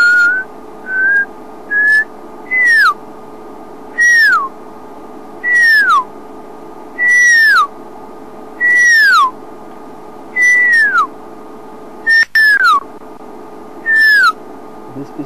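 A pearl-spotted owl calls in a long, loud series of rising then falling whistled notes, evenly spaced and growing slightly longer, close and clear over a faint steady background hum.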